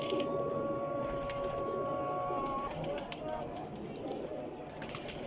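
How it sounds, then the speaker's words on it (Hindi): Sialkoti female pigeons with pearl-marked eyes coo in soft low murmurs amid steady loft noise, with someone talking over them throughout. "बिल्ले मोतियां वाले कबूतर।"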